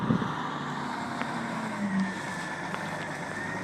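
A loader's diesel engine runs steadily at a yard with material piles where big trucks are loaded, a low mid-distance rumble with small shifts in revs.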